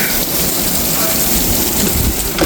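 Heavy rain pours in a thunderstorm on a farm during a tornado warning, a loud, dense, unbroken hiss of rain on surfaces with a low rumble underneath.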